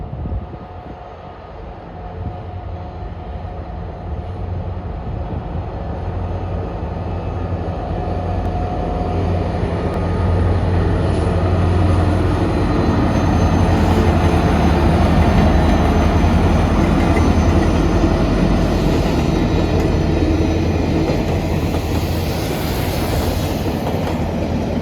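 The Alaska Railroad's southbound Denali Star passenger train arrives, rumbling steadily and loudly close by with rolling wheel clatter that swells and then holds for about twenty-five seconds.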